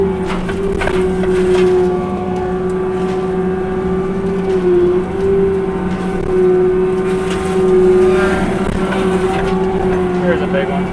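A disc mulcher feeds material through, holding a loud, steady droning hum that dips briefly midway. Rough mechanical noise runs underneath the drone.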